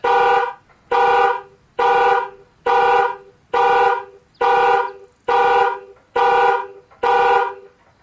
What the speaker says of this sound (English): Yeah, it's got an alarm. It's beeping over and over.